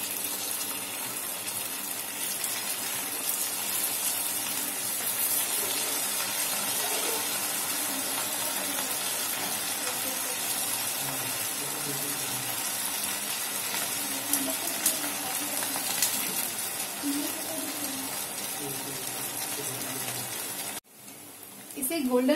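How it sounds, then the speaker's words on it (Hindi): Semolina kachori pastries frying in hot oil give a loud, steady, dense sizzle that runs almost unbroken, cutting off sharply for a moment near the end before resuming. "हमारा तेल गरम हो चुका है। अब हम इसमें एक एक कचौरी डालेंगे।"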